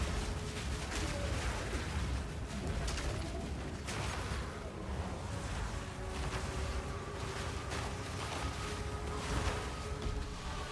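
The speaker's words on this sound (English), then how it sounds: "the explosions are big now with that additional AoE" Dense, continuous explosions from spell effects in the video game Path of Exile 2, layered over loud, crackling lightning-style noise with no pause, and many overlapping bursts at a steady, heavy level.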